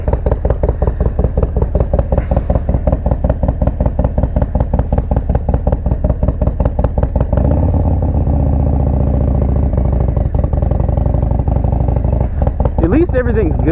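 A 2020 Harley-Davidson Low Rider S V-twin with an S&S 475C cam idles close by, a loud lumpy pulsing beat that smooths into a steadier drone midway, with a voice speaking over it near the end.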